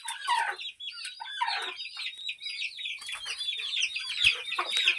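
A free-range flock of desi farm chickens, with chicks, hens and roosters around a low-cost home-built shed, clucks and chatters continuously in a dense, busy chorus close by.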